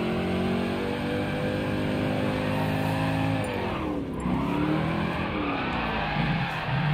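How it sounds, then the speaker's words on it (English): Several cars drifting in Gran Turismo on PS5, tuned to about 500 hp and sliding in tandem, engines droning loud and steady with sustained tire squeal that dips briefly midway and then resumes. "Now we're drifting."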